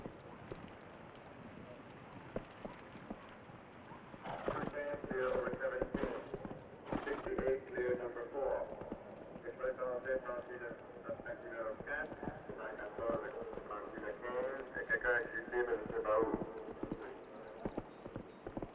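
Horse hooves clip-clopping across an Olympic show jumping course in the rain, steady footfalls with rain pattering on the ground, heard under a French commentator's voice.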